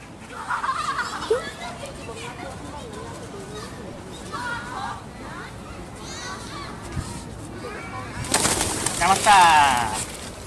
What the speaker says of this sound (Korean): 집비둘기 잡는 모습을 보여드릴게요.